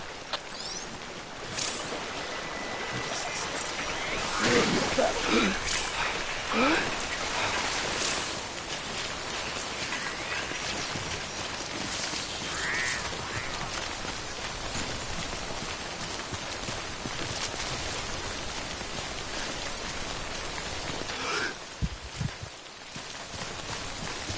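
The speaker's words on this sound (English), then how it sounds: "Don't stay out in the rain any longer than you have to." Timefall rain falls steadily in the video game Death Stranding, a dense, even hiss with scattered patters and drips that carries on throughout.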